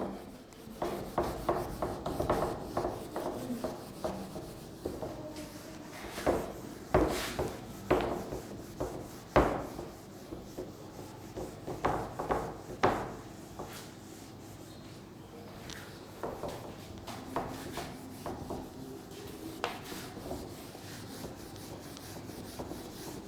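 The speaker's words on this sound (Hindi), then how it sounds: "चलिए इसको रब करते हैं।" A chalkboard or whiteboard being wiped clean in a classroom, giving repeated scraping rubs in uneven bursts, close and moderately loud, with no talking.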